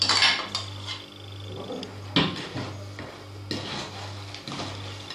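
A utensil clinks and scrapes against a bowl as melted chocolate is stirred into a chilled strawberry dessert mixture, producing close, intermittent taps and scrapes with a faint steady hum behind them.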